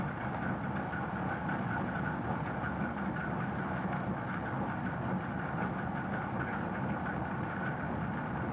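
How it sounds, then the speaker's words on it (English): Old water-powered grist mill at Double Mills, its turbine driving wheels, belts and gears, giving a steady, continuous low rumble and mechanical churning that holds at an even loudness throughout. "The wheels and belts shown here are responsible for turning every cog, gear, and belt in the mill."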